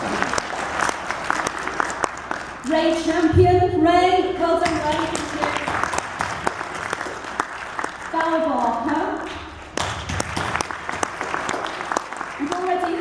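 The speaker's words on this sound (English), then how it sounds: "we should clap for him then" Audience applause at a residents' conference as named people are called out, bursts of clapping rising and fading while a speaker keeps talking over them.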